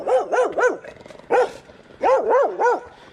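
A dog barks in three quick bursts of yips, then a single bark, then another run of three, loud and close, with no talk over it.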